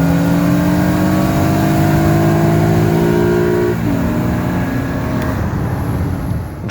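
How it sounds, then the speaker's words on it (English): Honda Legend KB1 with loud VTEC accelerating hard, engine rising in pitch through a gear, then a shift and a renewed climb, loud and close from inside the car. "Driving the Honda Legend."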